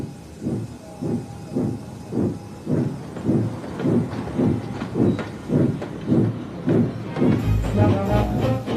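Gordon the steam engine pulls slowly out of a station with a steady rhythm of loud hissing chuffs, about one each half second, building slightly toward the end.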